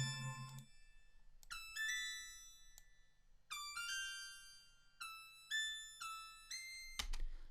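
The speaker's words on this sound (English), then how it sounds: "My wavetable synthesis was in RetroSynth in Logic, and this is just a wavetable" A simple wavetable synth lead from RetroSynth in Logic plays a bright, bell-like melody of separate plucked notes with glide, each note decaying, heard alone and fairly quiet, ending on a short noisy burst.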